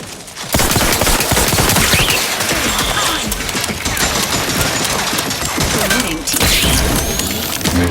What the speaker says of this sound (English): Players are gonna start shooting at me